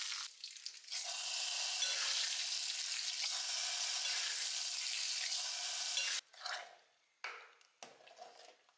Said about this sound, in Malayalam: വെളിച്ചെണ്ണയിൽ കടുകും വറ്റൽമുളകും അത് താളിച്ച് നമുക്ക് ചേർക്കാം.